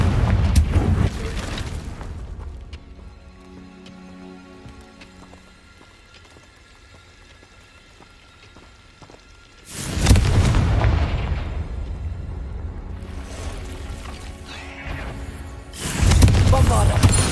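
Confringo blasting spell explosions in the Hogwarts Legacy video game: a loud burst at the start, a second one at ten seconds and a third near the end, each decaying into rumble, with a player's voice shouting over the game.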